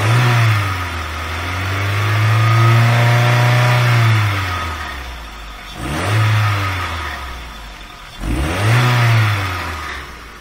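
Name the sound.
car engine revving with throttle held open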